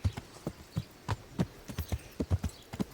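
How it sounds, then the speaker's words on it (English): Horse hooves clip-clop in a steady walking rhythm on a town street in Kingdom Come: Deliverance, close and distinct, with no talk over them. "Can I ride my horse through the town here?"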